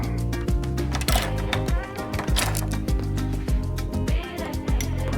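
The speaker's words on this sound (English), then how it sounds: "I'm going to grab an end wrench and a socket." A socket ratchet clicks in quick bursts on 12 millimeter bolts while installing an aluminum shift bushing on a Toyota MR2, close and busy metallic ratcheting with light tool clatter.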